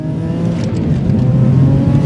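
Turbocharged Subaru Legacy 3.0R with about 340 wheel horsepower accelerating hard in first gear: a loud, close, rising engine roar with a steady low drone and building intensity over two seconds.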